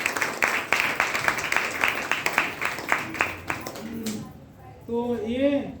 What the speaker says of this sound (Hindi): एक बार इनके लिए और ताली मार।